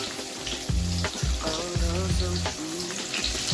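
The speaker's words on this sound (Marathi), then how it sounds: "मी हा कापलेला कांदा त्याच्यामध्ये टाकत आहे." Chopped onion drops into hot oil in a pan and sizzles loudly, a dense continuous crackle with a few clunks of the spoon, close and steady.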